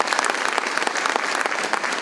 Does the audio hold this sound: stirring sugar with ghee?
no